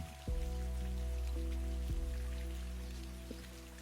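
Rain falls steadily outside a cozy bookshop, a soft constant patter throughout, with a low sustained hum and faint tonal chimes layered over it.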